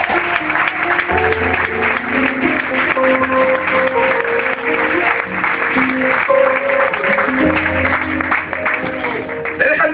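A church congregation claps together in praise, a dense continuous patter of hands over sustained music.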